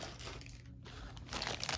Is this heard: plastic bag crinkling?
yes